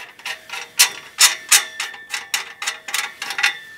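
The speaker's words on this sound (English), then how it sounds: "just going to unscrew it the rest of the way" An O2 sensor being unscrewed from a car's exhaust while installing an AEM X-Series wideband, giving a rapid series of metallic ratcheting clicks and ticks, close and fairly loud, with no talking.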